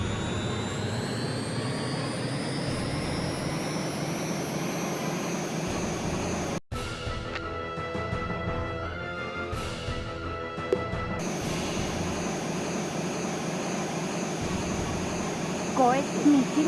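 Harrier jet engine in jet mode from the PlayStation game Eagle One: Harrier Attack: a steady, loud, high whining roar that cuts out abruptly, gives way to a few seconds of electronic beeps and tones, then returns.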